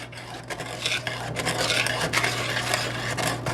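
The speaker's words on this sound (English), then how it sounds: "only thing you want to do is keep stirring" A spoon scrapes and rubs through melting butter in a pan for salted caramel, giving a continuous close rasping stir with a faint steady hum beneath and no voices.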